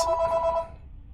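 A telephone rings once with a bright electronic tone, close and moderately loud, then cuts off, leaving faint background hum.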